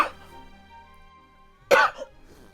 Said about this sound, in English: has developed this really severe cough over the last couple of days